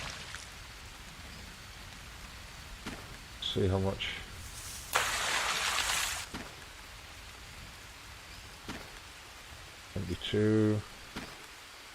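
Rain falling in the jungle survival game Green Hell, a soft constant patter under occasional speech, with a brief louder burst of splashing water in the middle.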